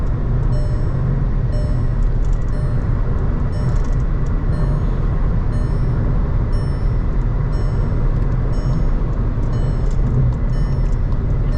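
Skoda Kushaq 1.0 8AT holding 2800 RPM at highway speed, a continuous deep cabin drone of engine and tyre rumble with faint wind noise, unchanging throughout.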